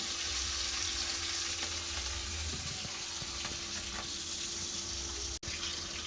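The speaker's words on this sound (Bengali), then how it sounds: "মাথাটা ভালো করে ভাজতে হবে" Oil sizzles continuously with a steady crackling hiss as rohu fish pieces, including the head, fry, occasional soft scrapes in the pan and no talking.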